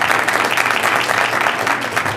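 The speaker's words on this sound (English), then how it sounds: "Show of applause." Applause from an audience at a county board meeting, a steady, moderately loud wash of many hands clapping for about two seconds with no pauses.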